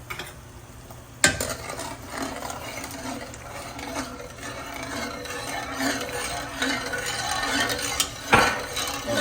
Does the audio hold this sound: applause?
no